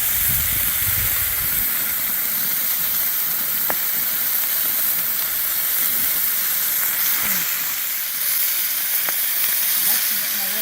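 Bacon and eggs sizzle steadily in a cowboy wok, a loud, continuous frying hiss with small pops throughout, close up and with no talking.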